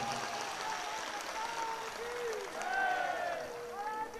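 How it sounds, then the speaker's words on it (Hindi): An audience at a Bageshwar Dham devotional gathering claps loudly in sustained, dense applause that swells toward the middle, with voices mixed into the noise. "जोरदार ताली इनकी भक्ति सेवा के लिए बजाओ।"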